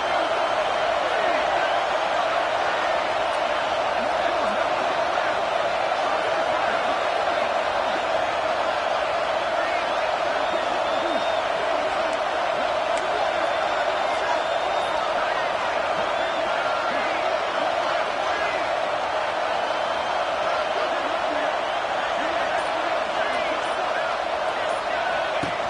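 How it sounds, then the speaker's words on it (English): A large stadium crowd in an American football video game, Georgia vs Oregon, roars steadily and evenly throughout a goal-line defensive stand, with sustained noise and no clear breaks. "this big crowd doing everything possible to inspire this defense down here near the goal line"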